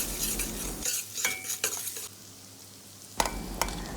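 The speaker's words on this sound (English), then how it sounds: "Stir it." A spoon stirs ginger into hot spices in a pan for pumpkin curry, with soft sizzling underneath and a few sharp metallic scrapes and clinks against the pan, the frying quieting in the middle before the scraping resumes.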